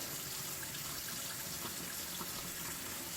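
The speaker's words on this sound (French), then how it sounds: "On va pouvoir les rincer à l'eau claire." Soapy hands rinsed under clear water from a tap, a steady, even hiss of running water, close and unbroken throughout, with no talk.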